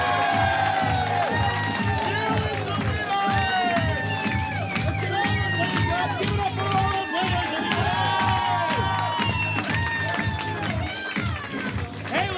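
An audience at an improv comedy show claps and cheers, with whoops and shouted voices rising over a sustained wash of crowd noise.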